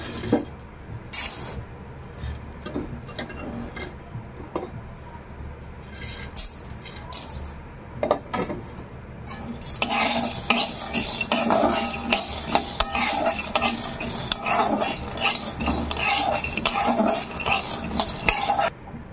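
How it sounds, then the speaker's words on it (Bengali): Peanuts and chana dal are dry-fried in a wok, stirred with a metal utensil that scrapes and rattles in irregular strokes, quieter at first, then becoming a denser, continuous scraping and light sizzling over the second half. "ছোলার ডাল আর বাদামটাকে ভেজে নিতে হবে"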